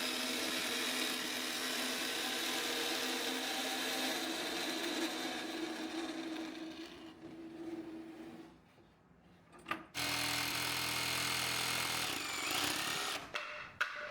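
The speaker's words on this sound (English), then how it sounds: "came back and hit it with a jigsaw" A jigsaw cuts through wood for a box build, a loud close buzzing rasp that drops out briefly before starting again in short bursts, with no talk.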